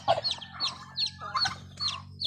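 Hens cluck in short repeated bursts alongside higher chirps, probably from a young chick, in a backyard flock, fairly close but soft, with a low steady hum underneath and no talking.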